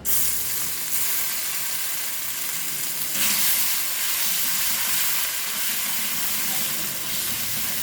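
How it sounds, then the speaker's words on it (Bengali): Ginger paste hits hot oil already seasoned with salt and turmeric for a vegetarian chhana dish, giving a loud, continuous, close-up sizzling hiss that surges slightly partway through. "আদাটা গরম তেলে দিলে কিন্তু ছিটকায়"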